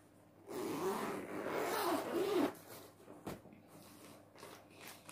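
A zipper on a fabric baby birth kit bag is pulled open in one long rasping run lasting a couple of seconds, close and fairly quiet, followed by softer handling rustles.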